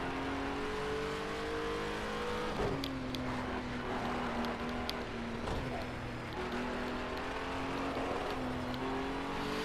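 A race car engine in a racing video game holds a steady, fairly quiet drone with slowly shifting pitch throughout, no speech.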